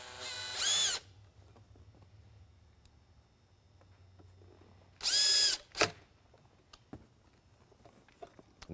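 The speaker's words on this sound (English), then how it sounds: "take the two little retainer screws, place those back in the back of the unit here" A power driver runs two small retainer screws back into the rear of a 100 watt vehicle siren unit: two brief, loud, close buzzing bursts several seconds apart, with faint handling noises in between.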